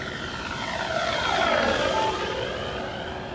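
A Flightline Corsair F4U-1A radio-controlled model plane on a 6S setup flies past, its steady propeller drone swelling to a peak and fading as it goes by, with a sweeping pitch shift and no talk.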